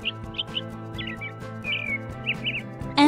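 A robin sings a string of short, bright chirps and warbles that come in quick bursts over a quiet, steady musical bed.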